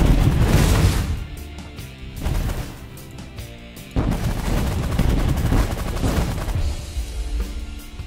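Spaceship auto-fire weapons in the space strategy game The Last Federation make loud, dense rapid gunfire bursts with booming impacts, continuous and layered, briefly dipping before resuming.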